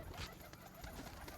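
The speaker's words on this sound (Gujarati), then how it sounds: "જોઈ શકું છું બધા કબૂતર આવી ગયા." Pigeons gathered at an opened coop, cooing softly and continuously against a hissy background, fairly faint with no talk.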